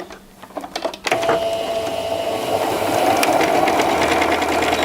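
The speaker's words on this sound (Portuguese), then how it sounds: "Então você chega aqui onde tinha parado a costura anterior, dá um retrocesso e continua." A sewing machine running a seam with a backstitch: soft handling sounds give way after about a second to a close, loud, steady mechanical whirring rattle that continues to the end, with no talk.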